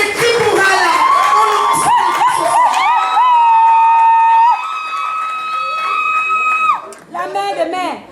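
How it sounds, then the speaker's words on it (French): A crowd at a live rap show in a neighbourhood cheers and shouts for a performer, a loud mass of screams and high sustained yells that fades, then picks up again with more voices near the end. "Je veux les cris pour elle."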